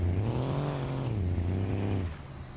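An old truck's engine revs hard in the BeamNG Drive driving game, a loud, steady low drone with pitch climbing and falling through two rev sweeps before easing off.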